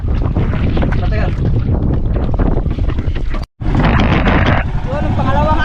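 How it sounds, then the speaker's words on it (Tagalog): Strong wind buffets the microphone on a fishing boat, a loud continuous roar with a brief dropout midway, while people talk over it. "Malakas yung hangin."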